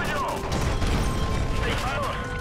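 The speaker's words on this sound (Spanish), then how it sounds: "¡Son disparos!" Gunfire breaks out during a plane hijacking in Call of Duty: Modern Warfare 3, with dense, loud bursts of shots mixed with shouting and commotion throughout.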